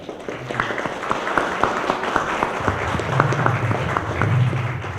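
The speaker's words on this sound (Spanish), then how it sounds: "Les pido a todas y a todos un fuerte aplauso para recibir al maestro" Moderate applause from a conference audience welcoming a speaker to a labor reform lecture, a fairly quiet, steady patter of clapping heard from a distance in a hall.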